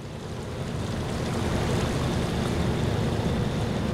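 Broad, steady rushing of a stream in the SnowRunner game, where trucks fight the current and slippery rocks during a winching recovery; a continuous loud wash of water with a low rumble underneath and no talk.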